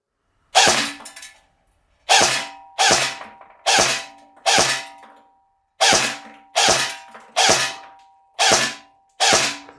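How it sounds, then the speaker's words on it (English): A BARRA 400e AEG airsoft rifle fires ten separate semi-auto shots outdoors. Each one is a sharp, loud crack with a short tail, coming at a steady pace of roughly one per second, with no talking between them. "We're going to put 10 rounds in first on semi-auto and see how we go."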